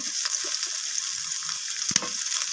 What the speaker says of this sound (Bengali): তো পেঁয়াজের সাথে আমি আলুটাকে ভেজে নিই।